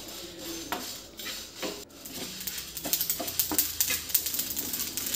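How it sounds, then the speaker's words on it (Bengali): Whole mustard seed, cumin, dried chillies, coriander seed and fenugreek dry-roast in a pan for lemon pickle, with a metal spatula clinking and scraping in quick bursts over a light, crackling sizzle. "এবার সব মশলাগুলোকে শুকনো খোলায় একটু করে ভেজে নিচ্ছি।"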